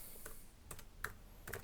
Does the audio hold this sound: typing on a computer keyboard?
yes